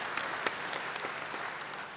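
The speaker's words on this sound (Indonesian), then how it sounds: "Beri tepuk tangan yang baik bagi dia." A church congregation applauds with steady, dense clapping that fills the whole short stretch at an even, moderate level, with no voices over it.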